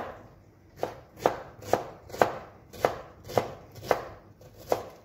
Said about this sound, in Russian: Сейчас нарезаю лук.